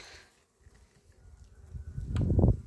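Honeybees at a spring apiary hive, carrying pollen, buzz in a low, rising hum that swells louder toward the end with a brief sharper burst, no talking over it.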